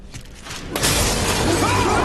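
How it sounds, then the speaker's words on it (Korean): Window glass shatters during a summer snow disaster, as snow bursts in. A quieter rumble suddenly gives way to a loud, sustained crash and roar of breaking glass and rushing wind. "창문이 깨지며 눈이 들이닥치자"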